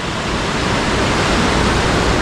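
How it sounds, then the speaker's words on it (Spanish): The Cali River in Cali, Colombia, rushes beneath a city bridge as a steady, loud, broadband roar of flowing water that continues unbroken, with no voices. "El río Cali, chicos."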